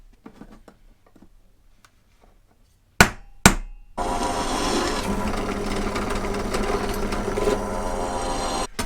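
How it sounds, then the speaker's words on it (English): Quiet handling noises, then two sharp knocks, followed by a loud, continuous whirring power drill grinding through a metal plate for several seconds. "just got to drill the holes"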